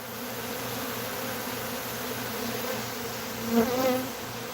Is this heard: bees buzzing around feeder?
yes